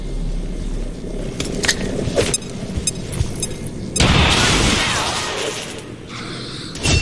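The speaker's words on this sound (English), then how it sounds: "Grenade!" A grenade blast in the tactical video game XCOM 2 hits with a loud, broad burst partway through, over continuous game noise and rumble, with a few sharper impacts before it.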